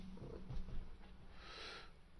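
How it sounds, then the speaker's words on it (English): A soft, low, steady purr from a cat nearby, quiet and continuous, with faint room noise around it. "You can hear a cat purring in the background."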